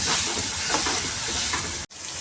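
Onion and green chilli fry in a pan for poha with a loud, close, hissing sizzle and light stirring. The sound cuts off abruptly near the end, then returns more quietly.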